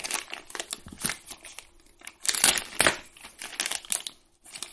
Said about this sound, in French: le petit cutter et on déchire ça, on déchiquette ça tranquillement